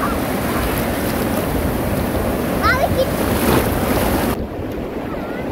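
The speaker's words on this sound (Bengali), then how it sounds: "জোরে ঢেউ আসতেছে মা, বাবা জোরে ঢেউ আসতেছে" Strong sea waves roll onto Inani beach at Cox's Bazar with a loud, continuous surging wash and heavy wind buffeting the microphone. A voice is briefly heard midway.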